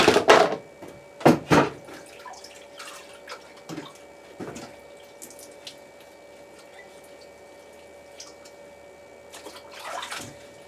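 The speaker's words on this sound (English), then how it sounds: "Let's get this little thing washed out." A small container is rinsed out under running water, with short bursts of splashing and gushing near the start, then quieter drips and trickles scattered through the rest.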